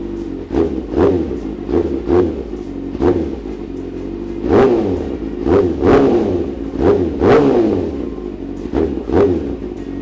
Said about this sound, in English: when I rev it, it starts right up, and it stays going